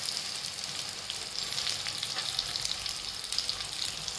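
Ground masala paste and turmeric sizzle steadily in hot oil for a Maharashtrian dahi hari mirch dish, a close, continuous crackling fry with no talk.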